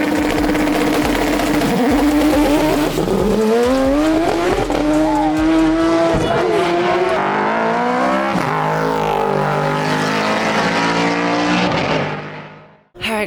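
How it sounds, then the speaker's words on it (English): A Porsche race car climbs the 2024 Pikes Peak hill climb, its loud engine rising and falling in pitch through repeated gear changes, with tire noise and no voices, before the sound cuts off abruptly at the end. "Here we have that girl going up in the Porsche."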